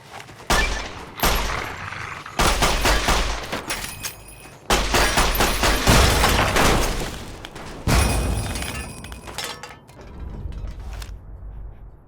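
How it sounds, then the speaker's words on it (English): Bursts of rapid automatic gunfire from a hostile robot in the game Fallout: New Vegas come in several loud, sharp volleys separated by brief pauses, with mechanical clatter and fading echoes. "Opening fire."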